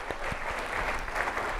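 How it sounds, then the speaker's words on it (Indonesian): A church congregation at a Sunday service applauds one another with dense, steady clapping that fills the room and holds at an even level throughout. "Ya tepuk tangan dong buat satu sama lain ya."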